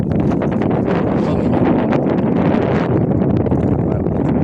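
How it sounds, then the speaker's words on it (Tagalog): Steady, loud wind buffeting the microphone, a continuous roaring rush with rustling texture throughout and no pauses. "talaga medyo may hangin"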